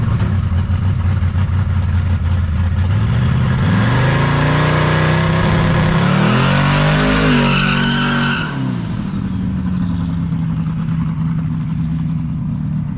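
A Chevrolet S-10 truck with a carburetor and new spark plugs runs loud and close: a steady engine drone that rises in pitch mid-way, holds briefly, then falls back to a lower, even running note.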